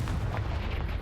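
A single heavy Confringo fire-spell blast from Hogwarts Legacy, a booming, gunfire-like impact filling a short moment of combat.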